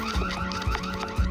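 The alarm on a motion-activated Ring Spotlight Cam security camera blares as a steady, pulsing electronic wail, close and fairly loud, with no talking over it.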